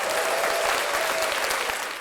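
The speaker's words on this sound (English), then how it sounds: "can we get an applause button?" Applause sound effect played from a button on a show, a short burst of dense crowd clapping that holds steady and fades slightly at the end.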